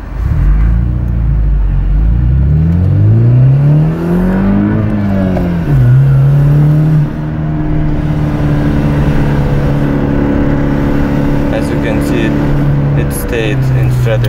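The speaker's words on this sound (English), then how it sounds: "when you drive very hard, I mean to the rev limiter." Car engine revved hard toward the rev limiter, engine note climbing, dipping and rising again, then holding a sustained high drone, loud and close with a few clicks near the end.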